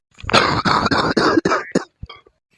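A man's persistent, worsening cough: a close, harsh fit of rapid rasping coughs in quick succession, followed by a few softer, scattered coughs trailing off.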